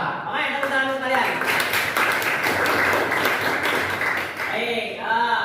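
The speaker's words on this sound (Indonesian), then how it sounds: "tepuk tangan untuk kalian" Classroom students break into a few seconds of brisk, fairly loud group clapping, with a teacher's voice speaking before and after it.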